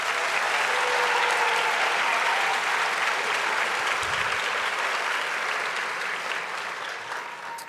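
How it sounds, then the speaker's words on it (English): An audience applauds inductees at a National Junior Honor Society induction ceremony for a public school district: loud, sustained clapping from a large crowd, full and even, tapering off over the last couple of seconds. "May we have a round of applause for our inductees."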